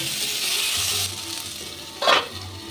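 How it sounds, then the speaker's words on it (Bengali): Onion sizzling in hot oil with radish and potato in a pan, a steady broadband frying hiss throughout, with a brief louder clatter of stirring near the end. "এবার পেঁয়াজ দিয়েও আরেকটু ভেজে নেব।"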